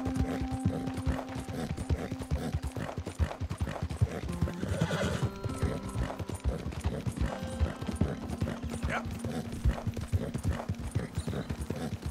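Horse hooves clip-clop in a steady, continuous rhythm through the Red Dead Redemption 2 video game, with whinnies and neighs mixed in, loud and close throughout.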